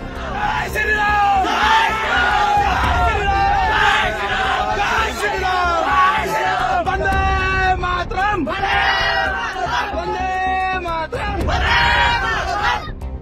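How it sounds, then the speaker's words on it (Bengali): A large crowd of locals at the India-Bangladesh border, some holding bamboo sticks and sickles, chants and yells slogans in loud, rhythmic surges that overlap continuously from many voices. "দুপ্রান্ত থেকে উঠল স্লোগান।"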